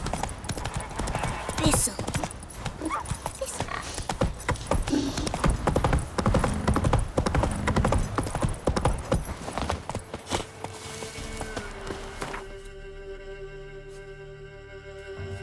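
Horse hooves clip-clopping at a steady riding pace in the video game The Witcher 3, loud and continuous rhythmic thuds with jangling tack, fading out near the end, while someone talks over them.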